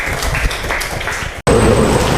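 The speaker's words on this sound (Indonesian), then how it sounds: "Tepuk tangan untuk kelompok 4" A classroom gives group 4 a short burst of clapping, close and loud, dense and uneven for under two seconds, then cut off abruptly and followed by a brief noisy tail.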